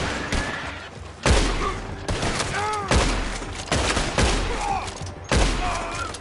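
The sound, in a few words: gunfire in Red Dead Redemption 2 video game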